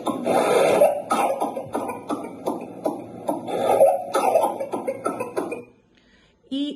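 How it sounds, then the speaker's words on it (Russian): A woman's dry, unproductive cough recorded in a long run of short, harsh, rasping bursts with brief gaps between them, ending after a pause in one last cough. "И эта женщина имеет кашель малопродуктивный, я бы сказала, даже сухой."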